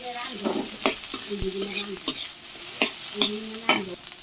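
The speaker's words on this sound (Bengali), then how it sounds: "ডাটা শাকগুলো দিয়ে দিলাম সাথে ভাজি করুন" Data shak stalk greens frying in a pan in a Bangladeshi village kitchen, a steady hissing sizzle with repeated scraping and clattering stirring strokes, close and fairly loud, with no one speaking.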